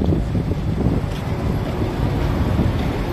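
A 1995 Opel Vectra engine that burns oil heavily runs steadily at idle, a continuous low rumble heard close up with no speech over it.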